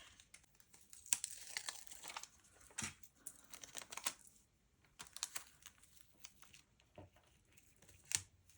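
Tape is handled and torn at close range: quiet crinkling and peeling with sharp, brief tearing rips scattered irregularly across the stretch, faint overall.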